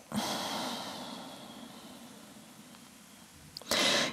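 Deep breathing during a yoga stretch, a long, loud, close exhale that slowly fades, followed by a sharp intake of breath at the end, with no talk.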